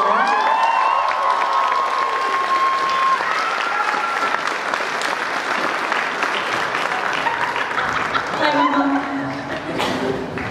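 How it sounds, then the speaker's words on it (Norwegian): Audience applause at a school revue, loud continuous clapping with cheers and crowd noise, with a voice speaking over it and the clapping fading toward the end. "En liten applaus for alle som har bidratt"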